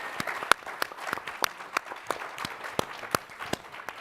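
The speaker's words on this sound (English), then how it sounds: "please give our guests another round of applause" Small audience at a public forum applauding the guest panelists, sparse and distinct individual claps in an irregular rhythm, fairly close and loud, tapering in a thin room with no voices.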